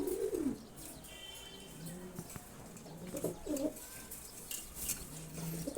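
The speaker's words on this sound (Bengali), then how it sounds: "দেখেন ওর নিচে একটা গিরিবাজ কবুতর আসছে," Giribaz pigeons in a loft coo softly and intermittently, a few faint rounded calls at the start and midway over a quiet, slightly busy background, while one bird pecks at another below it.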